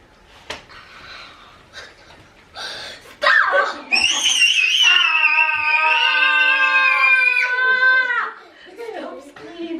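Kids shriek and squeal loudly in a sustained burst of high-pitched screaming while playing rock-paper-scissors at home, preceded by brief chatter and scuffling.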